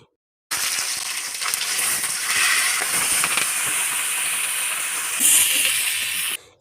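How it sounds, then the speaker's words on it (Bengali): Loud, steady sizzling and hissing of catla fish frying in hot oil in a wok, continuous for several seconds with a brief louder crackle near the end; no talking. "কড়াইতে তেল দিয়ে বেঁধে রাখা মাছগুলো এক এক করে দিয়ে ভালোভাবে ভেজে নিতে হবে"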